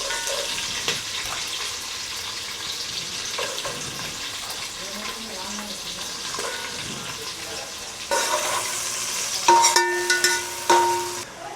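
Curry leaves, green chillies and onions hit hot oil in a pan for goat head curry, making a lively close sizzle with crackles and stirring scrapes, then louder clinks and metallic knocks near the end.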